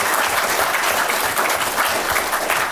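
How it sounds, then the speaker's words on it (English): Loud, dense audience applause at a talk on property tax, sustained clapping from a full room with no voices over it. "So I want to give Dave a round of applause"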